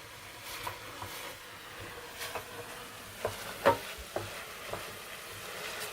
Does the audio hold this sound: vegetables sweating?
yes